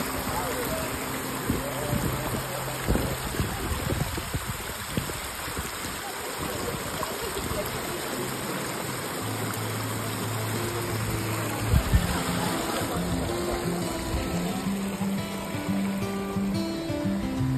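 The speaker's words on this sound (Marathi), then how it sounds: "hidden waterfall" A hidden waterfall on the way to Kokan Kada sends out a continuous broadband rush of flowing water, steady and enveloping, with faint tonal sounds drifting in the background.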